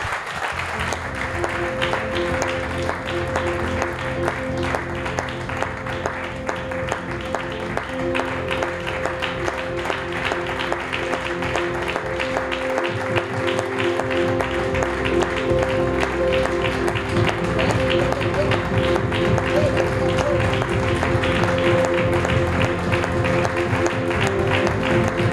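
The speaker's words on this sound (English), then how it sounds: "Can somebody give Jesus a round of applause?" A church congregation claps steadily through a Sunday service, with music playing under the sustained applause.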